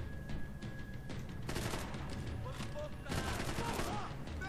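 Submachine gun fire in Max Payne 3 comes in loud, rapid bursts, a short volley followed by two longer sustained strings of shots with brief gaps between them.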